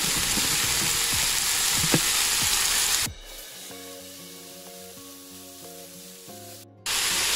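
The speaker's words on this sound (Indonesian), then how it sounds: "Kalau jamurnya sudah matang baru masukin smoked beef dan turkey baconnya ya." Mushrooms with smoked beef and turkey bacon frying in a pan, a loud, dense sizzle for about three seconds, then softer frying under a tonal background before the sizzle returns near the end.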